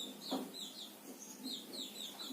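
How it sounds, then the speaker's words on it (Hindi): Small songbirds chirping in a residential neighbourhood, a series of short high twittering calls repeating steadily at moderate distance, faint and alone with no talk. "आज पड़ोस में चिड़िया बहुत ज्यादा चहचहा रही है"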